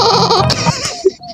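A goat-like bleat from a creature in the horror video game Warga Kabur, a loud wavering cry with a few shorter calls and game effects trailing off.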